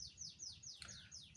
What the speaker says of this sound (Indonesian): pakai MP3 jalak suren